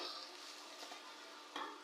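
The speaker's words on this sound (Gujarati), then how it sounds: "રાઈ જીરું લીમડો નાખીને થોડાક સતળાય" Mustard seeds, cumin, curry leaves and chilies sizzling in hot oil during a tempering, a steady close hiss running throughout with a brief louder burst near the end.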